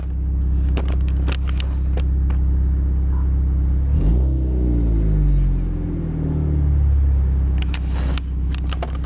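A car engine idling after starting, then revved twice as the gas is pressed, the loud rumble rising and falling close by, with no talk over it.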